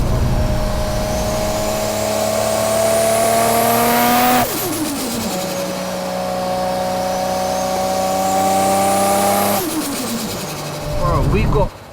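A 700bhp Nissan R33 GTR Skyline engine revs hard while driving. Two long, rising pulls each climb steadily in pitch before dropping sharply at a gear change, loud and close, with a final short burst at the end.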